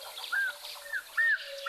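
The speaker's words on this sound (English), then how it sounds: "This is one of the starling species." Starling calling at an East African waterhole, three short rising whistled notes spaced about half a second apart, faint and distant over a steady background hiss.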